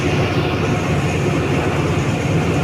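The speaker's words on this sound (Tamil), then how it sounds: "டிஃப்ரெண்ட் டைப்ஸ் ஆஃப் ட்ரெயினை பார்த்துக்கிட்டு இருக்கோம் நாங்கள் கொலம்போ ஃபோர்ட் ஸ்டேஷனில்" Trains at Colombo Fort railway station produce a loud, steady low rumble and rolling drone throughout, close and continuous with no break.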